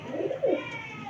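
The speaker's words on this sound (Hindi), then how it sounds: "ये टैडी कबूतर है" A Teddy pigeon coos close by, two soft, low, throaty coos in quick succession, the second slightly louder and falling in pitch, over a quiet background with faint steady hum.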